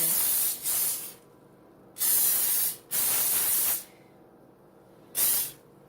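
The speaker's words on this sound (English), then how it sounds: "I'm going to spray the pan, cooking spray" Three bursts of cooking spray hiss onto a baking pan, each a second or so long, separated by short pauses, close and loud with no talking.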